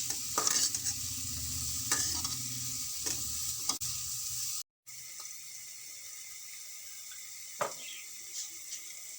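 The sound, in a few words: stir-frying carrot in a pan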